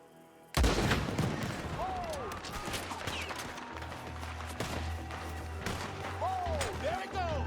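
Gunfire in the Red Dead Redemption 2 video game: a loud burst erupts abruptly after a quiet moment, then sustained shots and booming rumble continue under faint in-game voices.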